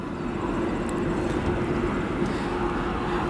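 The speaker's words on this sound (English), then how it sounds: "we have our United Airlines Boeing 78 Dreamliner arriving from Tokyo, Haneda" United Airlines Boeing 787 Dreamliner arriving from Tokyo Haneda at O'Hare, a steady broad jet roar with a constant engine tone, continuous and fairly close, no talking.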